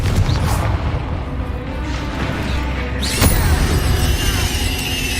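A giant spider bursting apart as it dies in Hogwarts Legacy, a crashing boom with debris-like clatter over continuous battle noise and music.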